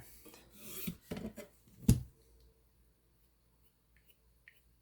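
A knife is sharpened on a Hapstone RS guided sharpening stone: a few quick, close rasping strokes in the first two seconds, the last one loudest, then near silence.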